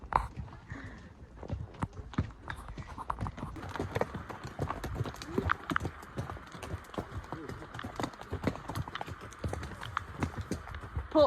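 Horse hooves clip-clop steadily on a trail in Glacier National Park, a brisk irregular rhythm of close, sharp hoof strikes continuing throughout.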